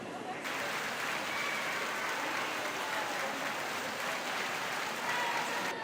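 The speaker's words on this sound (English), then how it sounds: "Fans are cheering." Spectators at a youth swim meet for ages 12 and under cheer and clap in a steady, dense roar that fills the whole stretch, continuous and fairly loud.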